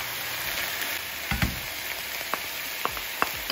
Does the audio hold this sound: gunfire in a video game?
no